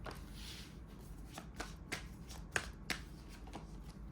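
Tarot cards are shuffled close by and quietly, a run of soft riffling flicks and light taps with a couple of sharper snaps as cards are drawn.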